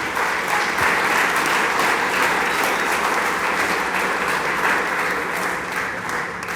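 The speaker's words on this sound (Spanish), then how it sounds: "Dele palmas al Dios del cielo." A church audience claps loudly and continuously during a sermon, a thick, even roar of many hands sustained from start to finish with no speech on top.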